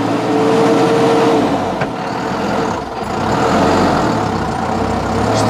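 A farm tractor fitted with a front loader runs its engine steadily close by, a constant low rumble with no talk.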